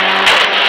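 A vehicle runs at full throttle in the mobile game Indian Bike 3D, giving a brief, loud, steady synthetic engine drone.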